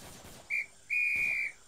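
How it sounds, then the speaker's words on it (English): A whistle is blown twice in Arma 3, first a brief blast and then a longer, steady shrill tone, loud and clear over a quiet background. "Blows the whistle."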